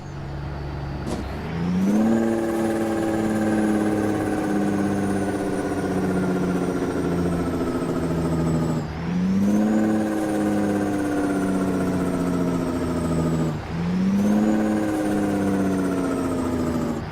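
Simulated CAT CT660 truck engine in American Truck Simulator, a steady mid-pitched drone that climbs in pitch three times as the revs build and drop again, loud and close with no talk.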